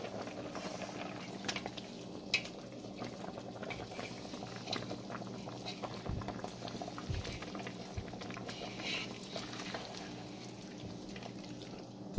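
Ogbono soup pot with meat and stockfish boiling steadily, a low continuous bubbling and simmering with small pops and occasional knocks, close and even throughout with no talk.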